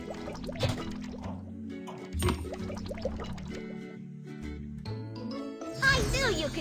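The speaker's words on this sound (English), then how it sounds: "Pour engine fluid by color into tanks." Engine fluid poured by color into tanks in a truck repair game, short liquid pours, drips and tinkling effects over cheerful background music, ending in a brighter sparkle.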